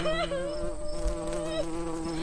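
Bees buzzing in a steady, close drone with a slight wavering pitch, continuous throughout with no voices.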